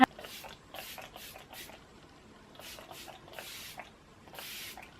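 Several short bursts of makeup setting spray mist hiss out in quick pumps, soft and close, with brief pauses between them.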